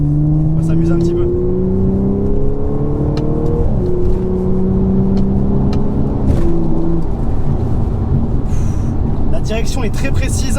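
A supercharged Audi S5 accelerates hard on a country road, its engine note rising steadily through the gears with a whining pitch climb and a shift break, loud and close inside the car, with someone talking over it.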